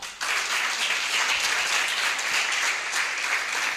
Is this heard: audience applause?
yes